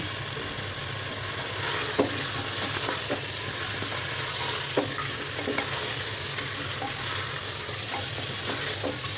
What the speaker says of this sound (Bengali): দেখতে পাচ্ছেন খুব সুন্দর করে আমি ভেজে নিচ্ছি